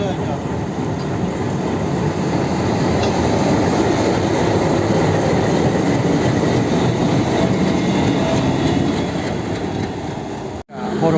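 A trial train rolls through Padmabila station in Bangladesh in a loud, continuous roar of wheels and carriages close by, with steady rumbling and a faint rhythmic clatter before it abruptly cuts off.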